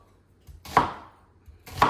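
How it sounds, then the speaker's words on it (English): A kitchen knife chops through an onion on a cutting board in two distinct, close, crisp strikes about a second apart, each with a brief woody knock. No voices are heard. "Trying to decide how I should cut this onion."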